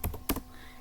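Two quick bursts of keystrokes on a computer keyboard while entering a ping command during a networking lab, close and fairly quiet, then a faint room hush.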